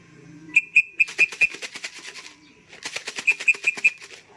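A racing pigeon flaps its wings in flight, giving two quick runs of close, rhythmic wingbeats separated by a short lull, with sharp repeated tonal ticks over them.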